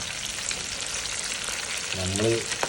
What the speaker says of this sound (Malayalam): അങ്ങനെ ഇവിടെ പ്രകൃതിയായിട്ട് ചിക്കൻ പൊരിച്ചുകൊണ്ടിരിക്കുകയാണ്